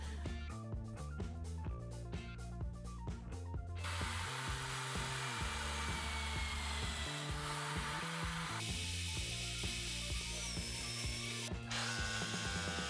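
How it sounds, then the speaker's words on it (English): A lathe or power tool machines a motor pulley for a homemade band saw, a loud continuous whining grind with a steady mechanical hum that shifts in pitch partway through. "Now we have to machine the motor pulley."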